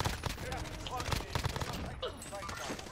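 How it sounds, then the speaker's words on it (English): Rapid, distant gunfire from a Call of Duty Warzone match, a steady stream of faint sharp pops and cracks scattered under ongoing game ambience and soft voices talking. "Oh, where's this guy shooting me from?"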